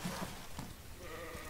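In the Old West video game Outlaws of the Old West, a sheep gives two brief bleats early on, fairly faint and close, over a soft steady game ambience.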